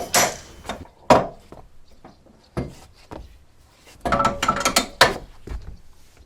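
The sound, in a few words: mast winch being opened on a wherry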